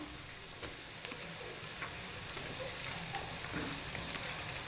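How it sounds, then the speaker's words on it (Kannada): Onions and tomatoes fry in a pan while a curry is being cooked, giving off a soft, steady sizzle and crackle with a few small pops throughout. "ಈಗ ಇದಕ್ಕೆ ಟೊಮೊಟೊ ಹಾಕ್ತಾಯಿದ್ದೀನಿ."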